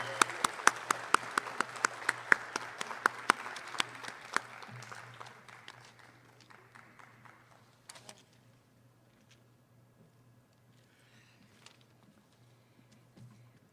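A high school commencement audience gives a short round of applause. Distinct individual claps thin out and fade within a few seconds, leaving near quiet with only a few stray claps.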